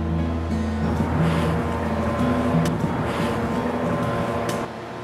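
A Vulcan TS310 trommel screen with woven wire mesh drum, dual trunnion drive, gear reducer and 5-horsepower 3-phase electric motor runs steadily, a loud continuous mechanical hum with rumbling tones and faint rattling throughout, easing slightly at the end.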